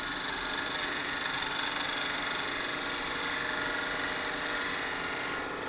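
A skew chisel shears along spinning wood on a lathe, a steady hissing, whirring cut with a bright high ring, continuous and fairly close before easing off at the end.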